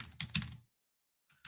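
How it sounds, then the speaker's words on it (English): Quick bursts of typing on a computer keyboard, a few clustered key clicks, a short pause of silence, then more keystrokes, close and fairly quiet. "as I start typing this in"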